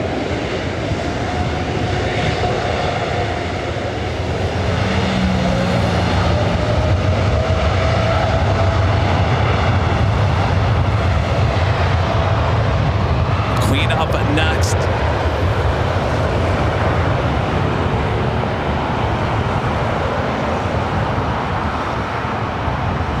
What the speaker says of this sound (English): Dreamliner continue the roll down to 24 right.